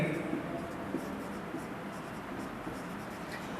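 Marker or chalk writing on a board during a Class 11 physics lesson, faint scratchy strokes running under a teacher's steady speech.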